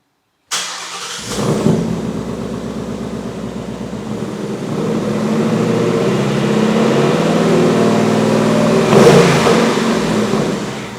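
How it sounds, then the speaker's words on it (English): A Ford Mustang engine with a K&N cold air intake cranks and fires up, settles into a rumbling idle, then rises in a brief rev before easing back. "Let's see how it sounds in the various exhaust modes."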